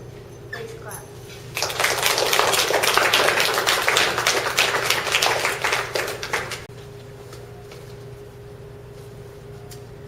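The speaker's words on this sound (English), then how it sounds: "Please clap." Audience applause at a school breakfast event, a burst of clapping from a roomful of people lasting several seconds after a speaker's request, then fading back to room tone.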